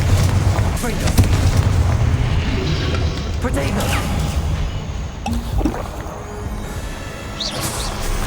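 A Confringo blasting curse goes off in Hogwarts Legacy as a loud, booming explosion with crackling debris. It is followed by more magical impacts and combat effects, and a voice is heard over the action.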